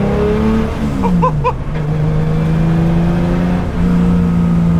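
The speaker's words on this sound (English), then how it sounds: "It's a full-blown race car" A loud race car engine roars and revs inside the cabin, its pitch dropping and then holding steady at a deep, sustained drone.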